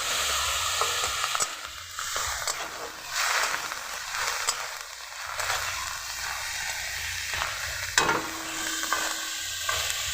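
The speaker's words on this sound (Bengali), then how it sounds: "দিয়ে দিব পিঁয়াজ বাটা ভালো করে নেড়ে ছেড়ে দেবো রসুন বাটা" Onion paste and garlic paste fry in a pan while being stirred, a moderate steady sizzle broken by rhythmic scrapes and occasional clicks of the spatula against the pan.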